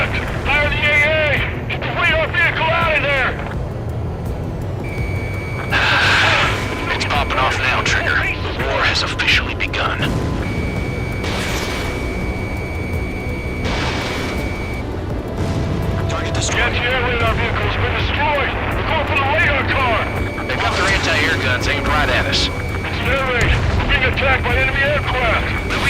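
Steady anti-aircraft fire mixed with explosions and rumbling in the Ace Combat 7 video game, loud and continuous throughout while radio voices and beeping tones sound over it.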